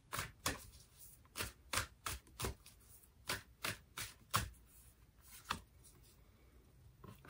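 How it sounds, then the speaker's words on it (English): Oracle cards are shuffled in quick, crisp bursts of riffling and tapping, close and quiet, with short pauses between the bursts. "Let me close it off with the Sacred Traveler Oracle card for you."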